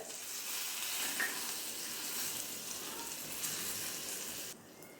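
Curry leaves and asafoetida sizzling in hot oil, a loud, dense, continuous hiss and crackle close by that stops abruptly just before the end.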